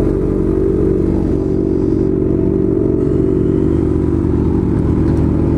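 Motorcycle engines with bare straight-pipe exhausts, including a Kawasaki Z1000, Yamaha Fazer 600 and Suzuki Bandit 600, roar loud and close in a steady continuous rumble with no pauses.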